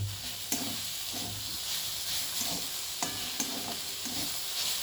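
Amaranth greens with onion and garlic sizzle steadily in a pan, a constant frying hiss broken by periodic scraping stirs, moderately close with no talking.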